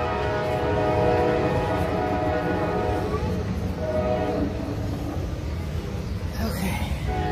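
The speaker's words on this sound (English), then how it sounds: "everybody is standing there watching the train" A train rolls past a small train park with a heavy, continuous rumble while its horn sounds a long, steady blast close by, fading slightly near the end.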